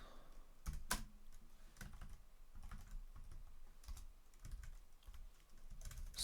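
Keys clatter on a computer keyboard in uneven bursts of close, crisp taps with short pauses between runs, no voices over it.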